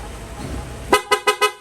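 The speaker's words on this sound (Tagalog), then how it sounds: "Rapid horn." Four quick, loud horn blasts in fast succession, sharp and evenly spaced, following a low engine rumble; close by, no speech.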